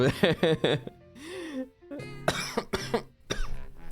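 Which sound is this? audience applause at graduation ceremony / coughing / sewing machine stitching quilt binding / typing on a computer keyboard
coughing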